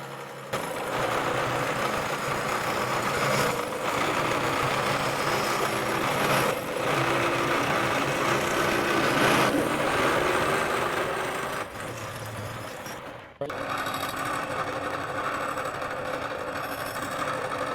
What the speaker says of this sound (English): we'll take a real nice light dust cut, find all those high spots